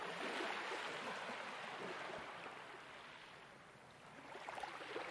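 Ocean waves wash onto a secluded beach at sunset, a soft, continuous rushing surf that swells and recedes gently, distant and even, with no voices.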